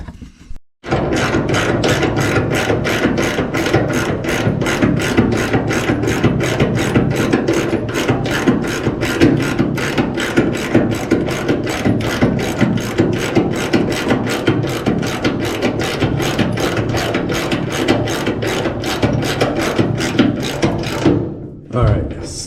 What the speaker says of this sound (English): now I got to get a ratchet